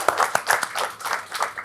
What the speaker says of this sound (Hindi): तालियां गाइस.